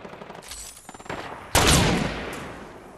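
Fortnite gunfire rings out in a loud burst of shots, first a few scattered cracks, then a heavy blast that decays slowly across the rest of the moment, with no talking.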